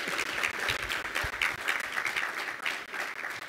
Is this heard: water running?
no